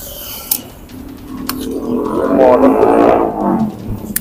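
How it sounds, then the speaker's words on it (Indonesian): A motorcycle passes by at speed on a street, its engine rising to a loud, close peak near the middle and then fading as it moves away, with a couple of sharp clicks at the start. "ada suara motor kebut-kebutan nih"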